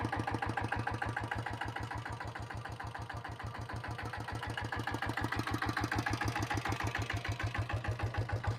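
A factory diesel Royal Enfield Bullet motorcycle with self start idles close by, a loud, evenly pulsing thud firing steadily at a slow, regular rhythm with a rough mechanical clatter on top, without speech.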